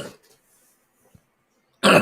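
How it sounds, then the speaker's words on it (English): A person clears their throat in a gruff, harsh burst close to the microphone at the end, after a short sound at the start and a near-silent pause. "Let me clear my throat."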